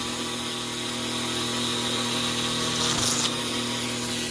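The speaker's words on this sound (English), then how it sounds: "I'm going to use this drill." A steady, high-pitched power drill whines continuously at close range while boring out a rivet, with a brief bite and rise in grinding near the end.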